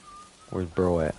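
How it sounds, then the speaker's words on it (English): A game character in Atomfall whistles a short tune, two rising and falling harmonic phrases a moment apart, fairly close and clear over a faint background hum. "Where's bro at? He's whistling."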